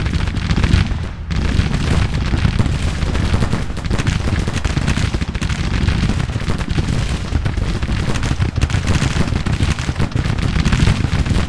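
Civil War artillery and rifle fire in the strategy game Grand Tactician: The Civil War, a dense, continuous barrage of booming shots and crackling volleys, loud and unbroken with no voices.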